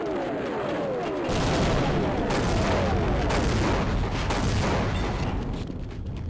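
Grenade explosion in Half-Life, a loud sustained blast and rumble filling the clip amid dense gunfire-like crackle, close and alone without talk.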